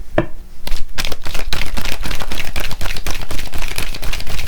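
Tarot cards are shuffled and dealt out in a run of dense, papery riffles and flicks, close and steady, with no talk over them.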